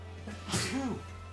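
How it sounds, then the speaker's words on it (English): A single sneeze bursts out close by, a sharp hissing blast followed by a short voiced trailing sound. "sneeze number 2"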